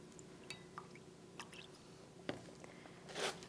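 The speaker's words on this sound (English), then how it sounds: "Rinse the probe off." Water is rinsed over a pH probe used for testing salsa: faint, sparse drips and small wet squishes, ending in a brief splashing trickle, all quiet and close.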